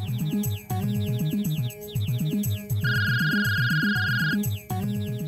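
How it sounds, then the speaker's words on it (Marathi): A phone rings with an incoming call, a melodic electronic ringtone of quick repeating notes that loops several times at close range, with a sustained high tone partway through and no voices. "त्याचा फोन आलाय"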